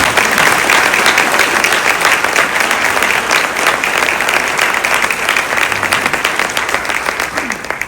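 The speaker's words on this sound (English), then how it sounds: "Can we just give them a round of applause?" A county audience at a State of the County address in Mercer County breaks into a sustained round of applause, dense and steady from start to finish, tapering slightly at the end, with a few scattered voices underneath.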